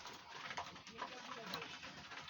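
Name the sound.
pigeons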